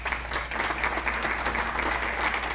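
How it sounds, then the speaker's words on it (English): An audience in a meeting room claps steadily in appreciation of a retiring presenter, Dr. Bruce Baar; sustained, even applause with a faint low hum underneath and no speech. "And while you're clapping"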